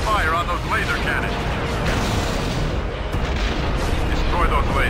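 Starship laser and cannon fire in the Star Wars Empire at War strategy game, a relentless stream of blasts, booms and mechanical rumble, loud and dense, with faint voice fragments in the mix.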